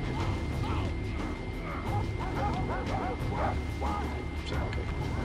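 Dogs barking in Far Cry 3, a series of sharp yips and barks at mid distance over a constant noisy game background, repeating irregularly throughout.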